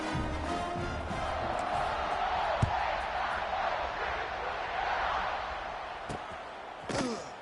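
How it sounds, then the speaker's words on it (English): Stadium crowd buzzing in an NCAA football video game, a broad steady roar filling the background with a couple of sharp thuds, a commentator's voice over it. "this crowd is buzzing after that last score"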